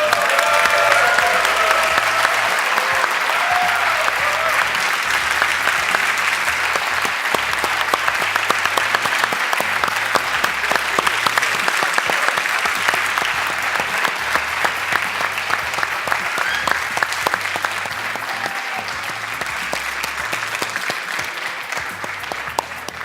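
Sustained audience applause fills a graduation ceremony hall at the EIT Digital Academy 2018, a dense, steady wash of many hands clapping that continues for over twenty seconds without letting up.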